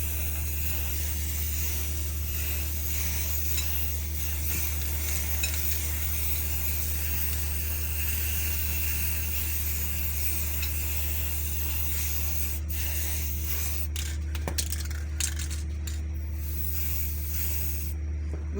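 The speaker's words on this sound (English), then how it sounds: "Then you can spray the inside too." An aerosol can of silver spray paint hisses steadily as it coats a fascinator hat, a continuous close spray with a few brief clinks and rattles near the end.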